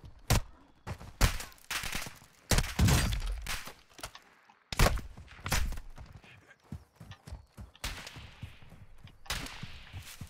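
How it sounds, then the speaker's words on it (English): Enemy gunfire in Call of Duty: Modern Warfare II, sharp loud shots and bursts cracking irregularly, some in quick clusters, with game ambience between. "They're shooting at me."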